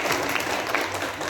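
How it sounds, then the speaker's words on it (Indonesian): Audience applause at an ESQ training session, a steady wash of clapping from a seated crowd that holds at an even level throughout, with no talk over it. "Tepuk tangan untuk Bapak Nofrizal."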